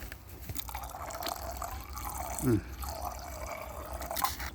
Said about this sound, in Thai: เติมน้ำให้เจือจาง